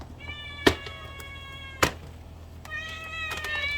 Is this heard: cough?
no